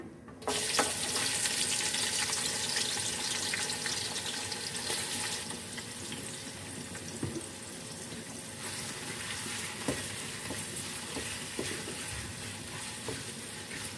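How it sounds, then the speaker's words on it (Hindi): Onions fry in hot oil for chicken korma, a dense, steady sizzling hiss that starts loud and eases slightly while continuing throughout, with a few faint stirring knocks. "ऑयल में हम प्याज को फ्राई कर लेते हैं।"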